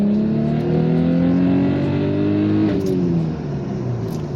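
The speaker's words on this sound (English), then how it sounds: "This is what a second gear pull looked like when I got the car." An Audi S4 accelerates hard in second gear. The engine roars close and loud with a steadily rising pitch, then the note drops sharply at an upshift and carries on strongly.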